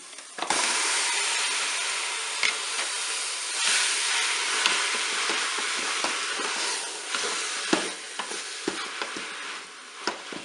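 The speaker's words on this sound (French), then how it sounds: "ça fait 2 minutes que le chou revient" Onions and cabbage browning in a Cookeo electric pot, a dense continuous sizzle and hiss with frequent utensil scrapes and taps as the food is stirred, close and fairly loud, no talk.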